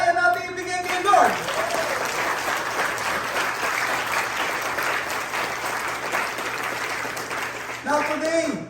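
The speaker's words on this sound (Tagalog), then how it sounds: "Palapakan natin si Lord." A church congregation breaks into steady, full applause for several seconds, with a speaker's voice heard just before it swells and again as it ends.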